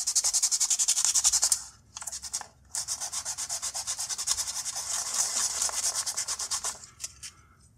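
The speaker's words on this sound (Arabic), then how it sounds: "عن طريق ان انا اجيب صنفرة وابدأ اصنفر الخشب كويس" Wood being sanded by hand with sandpaper ahead of gluing, steady rapid back-and-forth rasping strokes close up, with two brief pauses and a few final strokes at the end.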